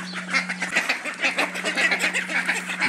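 Aseel roosters fighting give off a dense run of harsh squawks and honking cries, loud and close, overlapping without pause, with a steady low electrical hum underneath.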